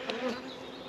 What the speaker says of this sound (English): The bees climbing up my back, almost going through.